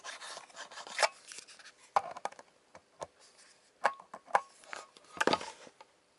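A battery pack being clicked into a Svarog C601G laser level, a close series of sharp plastic clicks and snaps scattered among quieter handling rattles and rubs, with no talking.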